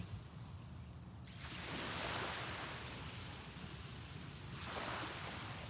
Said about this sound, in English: The waves are so nice to listen to, and they're a little bit loud today.